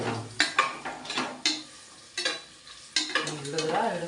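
Food fries in a pan with light sizzling, broken by sharp utensil scrapes and clinks against the metal at irregular intervals.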